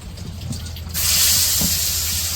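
Oil hits a heating wok (kadai) and breaks into a loud, steady hiss and sizzle about a second in, continuing close and bright after a quieter start.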